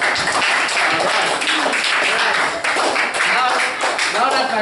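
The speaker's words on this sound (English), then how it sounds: "Give yourself a round of applause." A classroom of children at a learning centre in Guyana breaks into a short, dense burst of clapping that fills the room, loud and close, with a few voices mixed into it.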